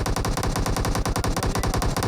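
Rapid automatic gunfire from a mobile battle-royale shooter during a winter festival event, a steady rattling burst of evenly spaced shots running loud and continuous throughout with no talk.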